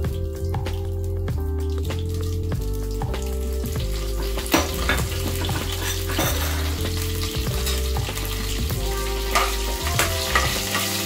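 Curry leaves fry in hot oil in a pan for fish avial, a loud continuous sizzle with crackling pops and stirring scrapes throughout, no voices.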